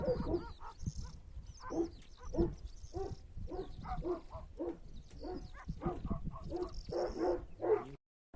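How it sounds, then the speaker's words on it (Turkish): A big dog barks again and again in a steady, rough rhythm, close and fairly loud, before cutting off abruptly. "Büyük bir ala köpek var ya."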